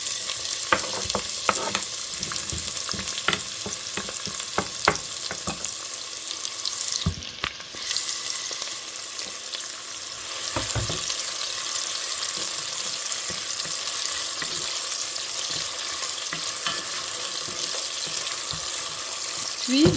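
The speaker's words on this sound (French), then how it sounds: "On va laisser chauffer notre huile quelques minutes. Après, on va verser nos oignons." Onions frying in hot sunflower oil in a pot, with a steady broadband sizzle and scattered crackling pops throughout, close and fairly loud, with no talking.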